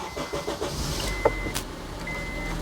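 A 2010 Honda CR-V facelift with the 2.4 engine starts up, a brief starter crank followed by a steady low idle rumble inside the cabin, with a chime and a small click.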